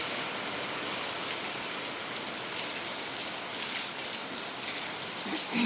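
Steady morning rain falling on a village, a dense, even hiss of drops spread across the whole scene with no voices.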